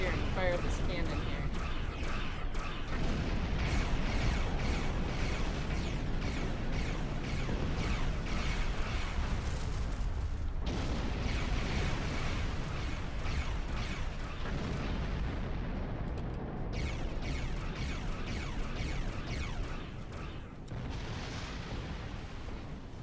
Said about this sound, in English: Get up here and fire this cannon here.